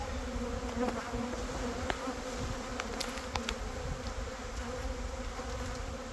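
Steady, dense buzzing of many bees close up around an open hive frame in spring, a continuous hum with occasional sharper clicks, no voices.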